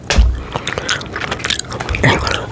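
Close, crisp mouth sounds of gum chewing, with wet smacks and soft crunchy bites repeating in an uneven rhythm, alone and near.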